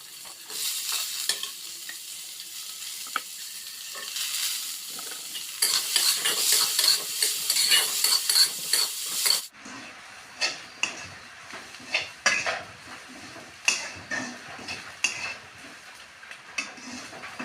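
Dried chilies, garlic cloves, chopped onion and a few green chilies sizzle loudly in hot oil, with steady frying hiss giving way to quieter, repeated spatula scrapes and stirs against the pan.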